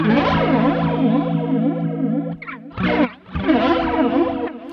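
An electric guitar sustains a chord through a Sonicake Warped Dimension flanger pedal with depth turned fully up, giving a loud, continuous whooshing sweep that stops briefly twice before the sweeping tone resumes.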